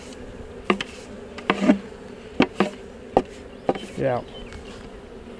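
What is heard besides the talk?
honeybees buzzing while brushed out of a nuc box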